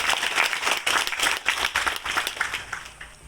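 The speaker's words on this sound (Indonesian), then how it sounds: "Boleh tepuk tangan lagi." An audience at an official ceremony for a religious institute in Kupang applauds, dense rapid clapping from many hands that starts strong and tapers off slightly toward the end.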